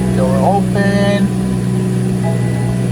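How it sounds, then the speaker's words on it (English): A wrecked BMW 340i rebuilt from auction runs at a steady low idle, with a few bright dashboard warning chimes sounding over the engine hum. "the car starts up right away"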